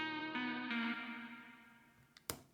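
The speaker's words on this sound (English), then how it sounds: "The only thing I really did do onto this is just add a bit of reverb just to give it a little bit more tail." A synth sample in an electronic remix of a song rings out with added reverb, sustained chordal tones fading into a long tail before a short percussive hit near the end.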